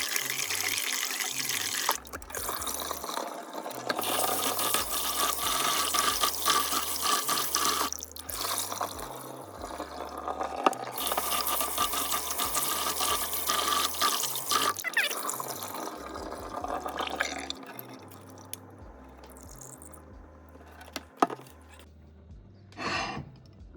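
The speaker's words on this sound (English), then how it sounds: "Alright, so we're gonna wash the rice now." Rice being washed in water at a kitchen sink, close sloshing and swishing with running tap water and drips, continuous and fairly loud before tapering off.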